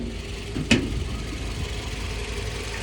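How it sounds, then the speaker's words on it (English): A used car's engine idles steadily with a low, even rumble, accompanied by one brief sharp click early on and no talk. "So I leave the car running, and then I smelled the engine bay."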